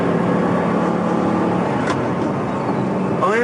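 An Audi R8's 4.2-litre V8 engine, the same unit used in the RS4 saloon, heard from inside the car as a loud, steady drone at speed, without any speech.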